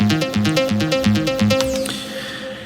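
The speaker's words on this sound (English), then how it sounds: "Pluck number 2 is being played by the excellent plugin called Odin 2." Plucked synth patch built from scratch in the Odin 2 plugin for a trance track, playing a quick rhythmic sequence of short bright notes with a bouncing bass-line pattern, then fading into a sustained resonant tail.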